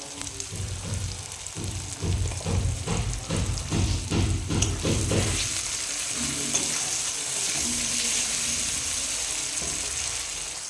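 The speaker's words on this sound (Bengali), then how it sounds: "পেঁয়াজটাকে একটু ভাজা ভাজা করে নেবো" Onions sizzling and frying in a pan, with stirring scrapes in the first half, then a steady hiss of hot oil.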